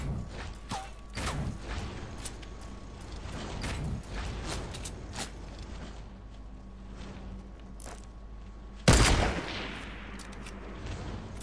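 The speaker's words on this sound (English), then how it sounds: "Someone's shooting at you, I think." Gunfire in the video game Fortnite, scattered shots and short bursts crack out at irregular intervals over background game noise, with one sharp, louder blast near the end.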